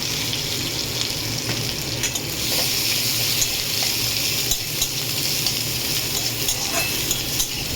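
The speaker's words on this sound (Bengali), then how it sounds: "পেঁয়াজটা ভালো করে ভেজে ফিরছি।" Half a large onion fries in oil with black cumin, giving a dense continuous hiss and crackle with occasional soft stirring scrapes at a steady level; no talk.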